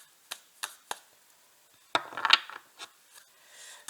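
A deck of cards being cut during a tarot reading: a few sharp separate card snaps, then a brief riffling shuffle of cards sliding together, close and fairly quiet, with no voices.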